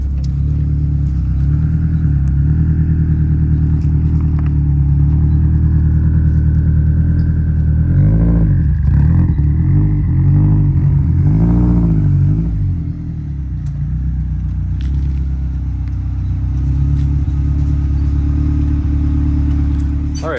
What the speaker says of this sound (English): So we're driving back to my garage, rally style.